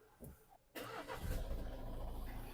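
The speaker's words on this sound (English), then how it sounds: "and going to start the car." A Nissan Qashqai engine cranks and starts after a brief silence, then settles into a steady, fairly loud close-up idle rumble.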